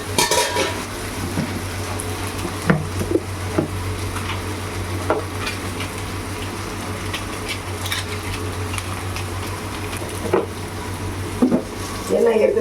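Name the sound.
sautéing and stirring sambar ingredients in a pan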